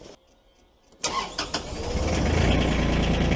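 A used tractor bought at auction cranks briefly in the quiet, then its engine catches and settles into a steady, loud, rumbling idle close by.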